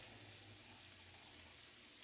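Tap water runs steadily into a kitchen container as water is drawn for a Japanese pork belly kakuni sauce, a faint, continuous wash of noise with no talking.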